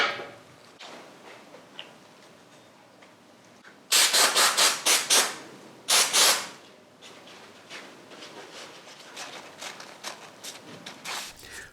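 A file rasps against the ends of Harley Sportster piston rings to set the ring gap during an 883-to-1200 top-end install. It makes faint ticking strokes at first, then a loud run of rapid, evenly spaced strokes, followed by quieter intermittent filing.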